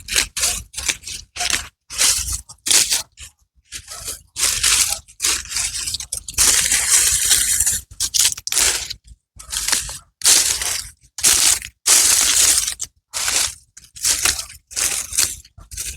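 Pruning shears snip and crunch through last year's dead perennial stems during a February garden cutback, a steady run of close, crisp cuts and scrapes with brief pauses, no talking.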